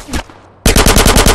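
A submachine gun fires in Grand Theft Auto San Andreas: after a brief softer sound, a loud, rapid burst of evenly spaced shots rattles out close up.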